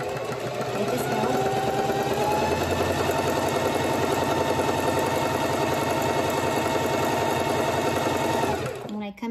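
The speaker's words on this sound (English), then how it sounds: "I'm gonna forward stitch the end, back stitch, and then forward stitch again just to lock your stitch in" Sewing machine stitching ribbon trim onto a toddler's mermaid tutu, a steady fast mechanical whir running loud and unbroken for several seconds before stopping abruptly at the end.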